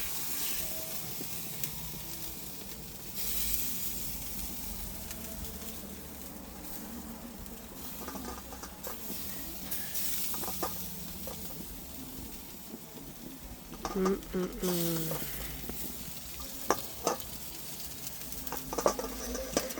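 Jamaican jerk meat sizzles on an outdoor barbecue, a steady soft frying hiss with scattered pops and small clinks near the end.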